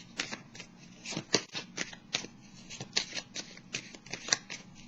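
Tarot cards being shuffled by hand during an astrology reading, a run of crisp riffling bursts and soft flicks close to the ear, with no talking over them.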